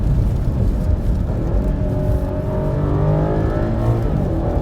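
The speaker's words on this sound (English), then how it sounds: "listen to those downshifts though" Engine of a 2021 BMW M8 Competition Gran Coupe rumbling continuously as it downshifts under hard braking, rising and falling revs heard from inside the car, loud and steady with no voices.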